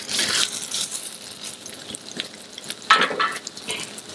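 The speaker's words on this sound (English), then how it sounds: "So we fry it on this side first." A turbot fillet fries in a hot pan, giving a steady close crackling sizzle with bursts of spattering and small clatters, louder around the three-second mark.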